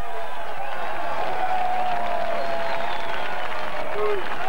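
Crowd applauding and cheering at the 1993 British Motorcycle Grand Prix at Donington Park, a broad steady wash of clapping and voices heard from a distance, with commentary talk over it.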